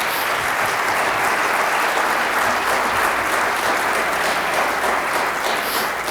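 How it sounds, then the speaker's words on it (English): Sustained applause for parents from a large audience at a high school centennial concert, a thick, even roar of many hands clapping at steady loudness throughout. "So let's applaud parents"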